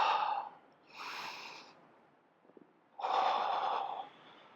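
Breathing during a Pilates mat exercise: three audible breaths with quiet gaps, the first two short and the last a longer, louder exhale, close and alone.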